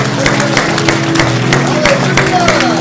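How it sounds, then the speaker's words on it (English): A church congregation claps for the Lord in quick, steady rhythm, loud and close, with voices murmuring beneath the applause. "Give the Lord a clap tonight"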